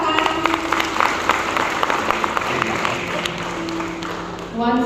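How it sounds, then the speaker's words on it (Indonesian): Audience at a healing rally in Miri, Malaysia clapping in a scattered, uneven patter over a steady background hum, with a voice coming in at the end. "Tepuk tangan."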